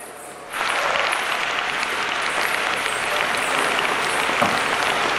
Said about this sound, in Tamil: With your huge applause,